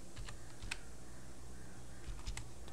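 Computer keyboard typing in a quiet room, a short run of light, irregular key clicks at close range with a steady background hum and no talking.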